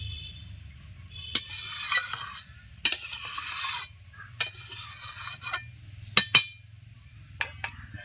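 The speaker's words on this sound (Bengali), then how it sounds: "ভালো করে কষে নিতে হবে তিন চার মিনিট" A spatula scrapes and stirs a potato and katla fish curry around a pan in repeated strokes, with sharp metallic clinks over a low, steady sizzle.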